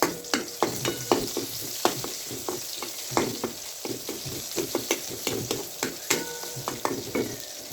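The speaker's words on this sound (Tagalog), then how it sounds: "Kaya tayo po ngayon ay maggigisa na" Garlic and onion sautéing in a frying pan, a steady close sizzle broken by frequent sharp clacks and scrapes of stirring at an uneven rhythm, with no talking.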